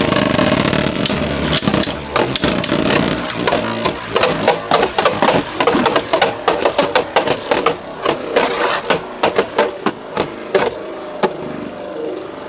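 Beyblade Burst Rise Hypersphere spinning tops, Balkesh and Lord Fafnir, clash in a plastic stadium, giving a dense run of sharp clacking hits and scraping whir over a steady spin hum, loud and close, no voices.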